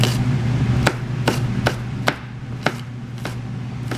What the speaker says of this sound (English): Just gonna cut it in round pieces.